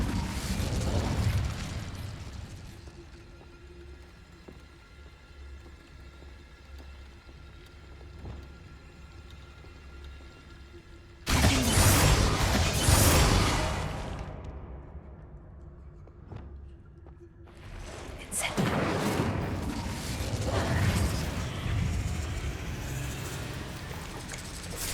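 Fiery spell bursts from Incendio casting in Hogwarts Legacy, two loud whooshing, roaring blasts with a quieter rumbling stretch between them, over a steady low game ambience.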